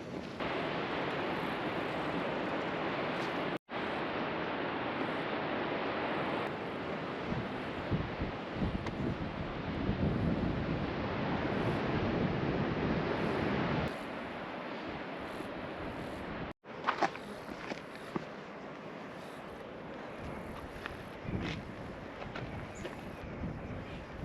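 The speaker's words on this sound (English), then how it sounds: "we can start to hear the sounds of the waves crashing now" Surf crashing against the cliffs of the Tasmanian coast on the Three Capes Track, a broad, steady roar of water buffeted by heavy wind noise across the microphone, with two brief dropouts and no talking.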